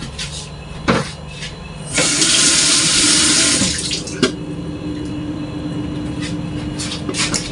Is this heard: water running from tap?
yes